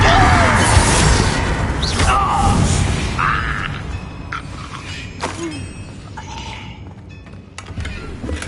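A Confringo blasting curse explodes in Hogwarts Legacy, a shattering crash among dense game effects and background clutter, followed by scattered smaller impacts and thuds.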